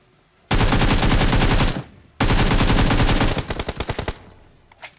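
Automatic gunfire in the video game PUBG, two loud sustained bursts close by, the second trailing off into scattered shots, with no talk.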